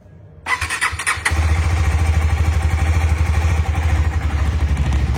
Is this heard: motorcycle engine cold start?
yes